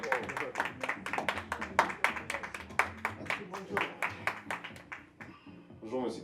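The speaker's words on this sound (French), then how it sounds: "Et maintenant, une bonne main d'applaudissements pour Ibra Kanji." A studio audience claps for a guest introduced on a talk show, a brisk run of distinct hand claps lasting several seconds before fading, followed briefly by a voice.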